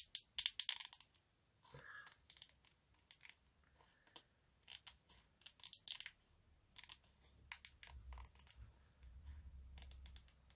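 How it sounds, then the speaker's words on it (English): Scissors snip around a paper border for a collage, a quiet irregular series of short close cuts and rustles, no talk. "I'm going to just cut round this border"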